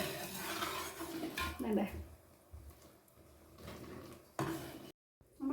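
Rice flour is stirred into syrup in a pan for avalose unda, with intermittent scraping and clinks of a spoon against the pan, close by and mostly under a person speaking.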